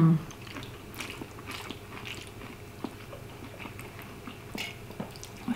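Someone eating spaghetti with courgette and prawn, giving soft close chewing and biting sounds with small clicks over a quiet room background.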